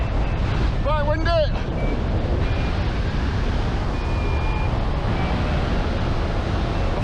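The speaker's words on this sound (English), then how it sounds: "So, we're airborne on the second task. Quite windy." Loud, constant wind buffets the microphone in a broad roar while airborne in a hang glider during a competition, with a brief voice rising over it early on before the gusting rush carries on alone.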